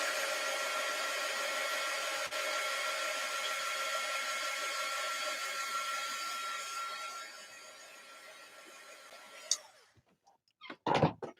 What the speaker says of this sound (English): Let's see what happens if I turn on my heat gun.